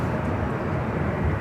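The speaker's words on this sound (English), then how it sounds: "The Southwest flight taking off and heading to Vegas, flight 1487" A Southwest Airlines jet taking off at Los Angeles International Airport on a flight to Las Vegas gives a steady, heavy low rumble that holds at an even level throughout, with no voices.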